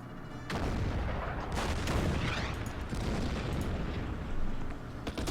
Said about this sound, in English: My artillery is in range.